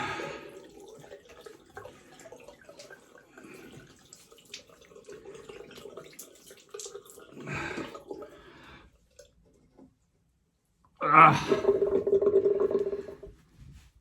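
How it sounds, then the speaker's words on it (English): A safety razor is rinsed under a running tap after a shave, the water rushing and splashing loudly for a few seconds near the end, after quieter earlier handling and trickling sounds. "let's just rinse this off"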